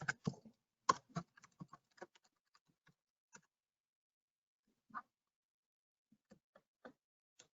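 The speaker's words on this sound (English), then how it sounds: "it'd be helpful if I type my name" Quiet computer keyboard typing a name into a sign-up form: a quick cluster of soft key taps at first, then sparse isolated clicks with long pauses between them.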